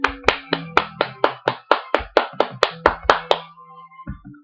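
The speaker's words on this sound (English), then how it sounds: "That is a bravo, and that deserves a clap from me." One person claps hands about fourteen times in a steady, fairly quick rhythm, each clap sharp and close, then the claps stop and a soft tone lingers with a faint thud at the end.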